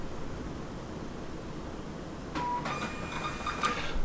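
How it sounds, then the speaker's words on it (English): Zebra label printer printing a label, heard as a quiet mechanical whir and clicking that starts partway through over a steady background hiss, close and faint, with no voices. "another label from our Zebra printer"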